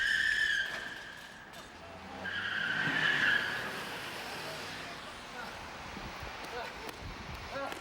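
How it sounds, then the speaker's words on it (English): Tires squeal and skid loudly as a car hits a wrestler at a WWE event, the screeching rising and falling over several seconds amid crowd noise and excited commentary. "Roddy Piper was hit by a car."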